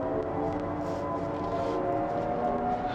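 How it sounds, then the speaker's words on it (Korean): Steady synthetic humming drone with layered tones, a smooth futuristic electronic engine sound from a Genesis GV70 electric SUV's active sound design, sustained and even throughout. "액티브 사운드 디자인을 또 설정을 할 수가 있습니다"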